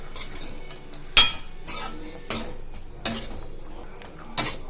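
A spoon scrapes and taps now and then in a pan as pepper rice is mixed, with soft stirring between the clinks, close and fairly quiet, no talking.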